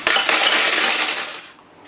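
A dense rush of coins clattering and jingling as they pour into the metal tray of a EUROX 520 coin counting machine, loud and close, tapering off near the end.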